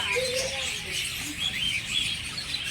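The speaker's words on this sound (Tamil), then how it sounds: "குட்டி குட்டியாக thousands ஆஃப் பேர்ட்ஸ் இருந்திருப்பாங்க அந்த ஒரு இடத்துலையே. ஸோ அந்த சவுண்ட் எக்ஸ்பீரியன்ஸ் எப்படின்னு கேட்டு பாருங்கள்." A large flock of budgies in a bird park chirps in a dense, continuous high-pitched chatter, many small calls overlapping at a moderate distance.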